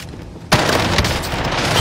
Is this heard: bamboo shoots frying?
no